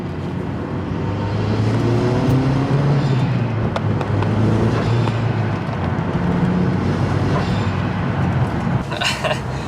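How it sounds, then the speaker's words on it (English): A Mazda Speed6 fitted with a blow-off valve cruises at about 40, heard from inside as a steady, loud engine drone with a short hissing burst near the end. "First drive, we're going about 40, and this thing feels way better."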